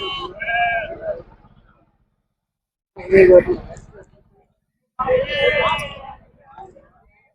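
Sheep bleat at a livestock market in Miryalaguda. Three loud, wavering bleats come from close by, separated by short silent gaps.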